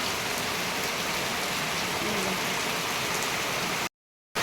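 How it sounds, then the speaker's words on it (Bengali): Steady rain pouring onto an open home courtyard, a dense continuous hiss of drops on the ground heard up close and alone, ending with a brief cut to silence. "তা চলো তোমাদের আমি ওই আমাদের সামনে যে উঠানে যে বর্ষা পড়ছে সেটা আমি তোমাদের দেখাচ্ছি"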